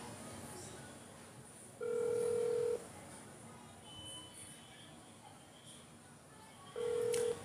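A telephone call back is placed, with two steady electronic tones about a second long sounding several seconds apart over faint background noise and quiet voices.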